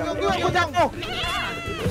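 A sheep in the video game Lumberhill gives wavering bleats, close and clear. Excited talk overlaps the calls.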